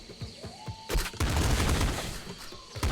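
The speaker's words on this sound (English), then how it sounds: "Doesn't really bounce too far with the flame shotgun" A flame shotgun firing in the game Nuclear Throne, a few light shots and then a loud, dense crackling burst lasting about two seconds, with another shot starting at the end.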